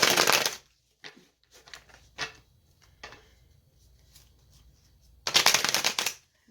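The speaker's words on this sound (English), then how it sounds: "I'm going to shuffle one more time" Tarot cards being riffle-shuffled in two brisk bursts, one at the start and one near the end, with quieter card handling and tapping between them.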